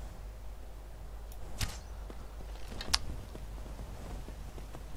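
An arrow is loosed from horseback in a video game: two sharp, brief releases a little over a second apart, each cutting through a quiet outdoor game ambience.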